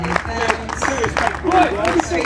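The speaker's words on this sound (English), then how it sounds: "Huge round of applause for the guys" A crowd at a charity football event claps and cheers for the Street Angels team, a scattered burst of applause mixed with chatter and a voice speaking over it.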